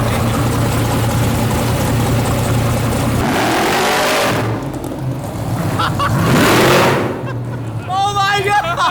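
A 900HP Ultra 4 off-road rig's engine idles with a heavy low rumble, then revs up in loud rising bursts, close by, with voices talking over it.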